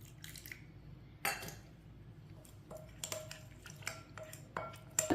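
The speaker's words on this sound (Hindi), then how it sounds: "सारे मसालों को मैंने अच्छी तरह मिक्स कर लिया है।" Spices for a chicken marinade get mixed in a bowl, giving soft scraping and wet squishing with a few sharp clinks of a spoon against the dish, close and fairly quiet, in irregular bursts.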